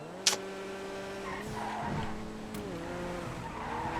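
Car sliding with tire squeal during a GTA FiveM race, a sharp skid burst over a steady engine drone with shifting pitch, followed by further brief squeals and engine swells, moderately close.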